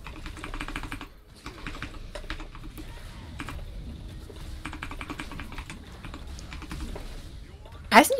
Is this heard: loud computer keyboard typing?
yes